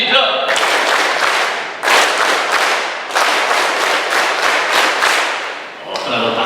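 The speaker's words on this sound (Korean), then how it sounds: "337 박수 한번 쳐볼까?" A church congregation claps in unison in the 3-3-7 rhythm, loud sharp bursts of group clapping in grouped beats that start and stop between sets, with voices in the background.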